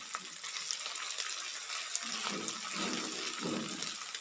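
Fresh ginger and garlic paste frying in oil for a mole salan, a soft crackling sizzle with gentle stirring that grows slightly fuller toward the end.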